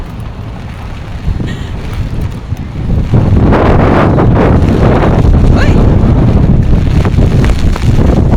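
Strong wind roars and buffets the microphone, growing louder and more constant partway through, with a brief exclamation from a voice.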